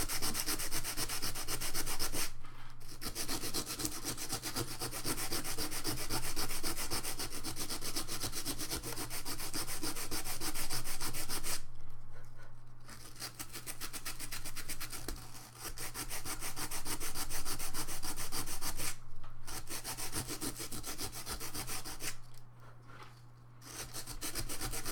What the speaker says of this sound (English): Just getting a little bit of sanding